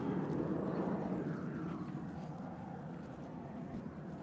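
The Cessna Citation jet G-Soul departs Liverpool John Lennon Airport for Luton, a broad, distant roar that fades slowly as it recedes, with no voices over it.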